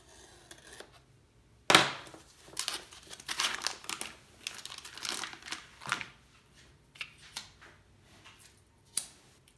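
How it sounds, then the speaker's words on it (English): Adhesive backing peeled off a snowboard stomp pad, crackling and crinkling in a sharp burst and then in scattered tearing rustles, close and fairly quiet, with no talk. "Basically just peel off the backing here."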